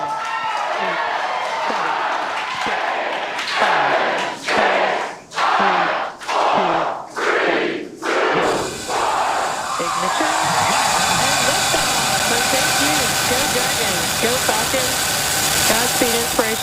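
A rocket launch heard from a distance, a broad roaring rumble that swells and pulses before settling into a steady, loud, sustained roar, with people talking and cheering in the background.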